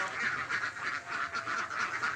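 Ducks on a laying-poultry farm of about 500 birds, quacking continuously in a dense, pulsing chorus that fills the whole stretch at close to moderate range, with no clear talk over it.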